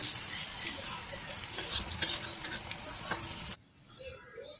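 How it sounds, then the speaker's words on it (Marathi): Potato vadi frying in hot oil for a Marathi aloo vadi recipe, a steady close crackling sizzle with small pops that stops abruptly near the end, leaving near silence. "1 बाय 1 वड्या सोडून परत अशाच प्रकारे खरपूस एकदम तळून घेते"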